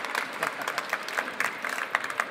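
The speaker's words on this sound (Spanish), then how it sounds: "Por favor, un fuerte aplauso para Fermín Muguruza." An audience at a Manga Barcelona interview event applauds Fermín Muguruza, a soft, fairly distant wash of many hands clapping steadily.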